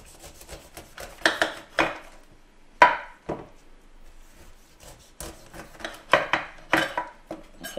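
A knife peels a pineapple in a home kitchen, making a run of rasping, scraping strokes against the tough fibrous skin, close and crisp, with irregular rhythmic cuts and brief pauses between them.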